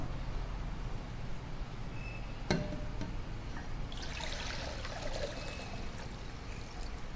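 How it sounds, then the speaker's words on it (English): Brine poured off fermented ghost peppers into a container, a soft continuous trickling and splashing of liquid close by, with a brief clink partway through and a slightly fuller gush toward the end. "I'm going to get rid of the brine."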